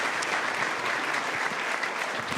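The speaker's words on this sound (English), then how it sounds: "another big round of applause for Senator Martin" Steady, dense applause from a political party debate crowd in British Columbia fills the whole stretch for Senator Martin, a continuous wash of many hands with no talk over it.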